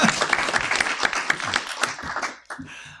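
A live podcast audience applauds with quick, dense clapping and some cheering, then it stops abruptly and a few brief sounds follow.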